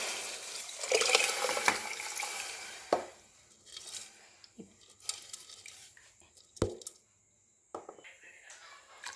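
Water poured into a cooking pot of ginger paste while making khichdi, a splashing pour followed by scattered clinks of utensils against the pot and intermittent stirring.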